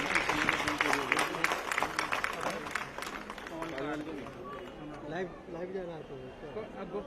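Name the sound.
audience applause welcoming a speaker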